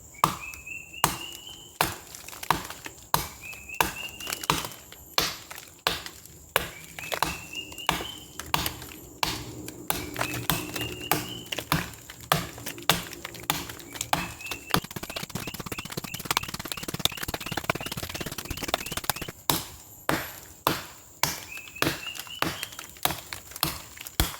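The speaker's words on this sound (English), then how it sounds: "So we're going to just chop into it and see what sort of chopping power the Brakimo has." A Tops Brakimo knife chopping into a thick fallen branch outdoors gives sharp, repeated woody thwacks in an uneven rhythm, close and loud. Birds chirp in the background and there is no talk.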